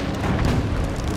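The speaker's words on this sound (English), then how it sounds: "Grenade!" A grenade blast in a shooter video game, one dense, loud rumbling boom that fills the whole moment with no voices over it.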